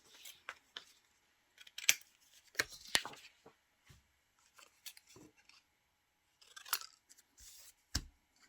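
Scissors snip out a vintage 1960s paper image for handmade Christmas artist trading cards, with quiet, intermittent cuts and short pauses between bursts. No one speaks.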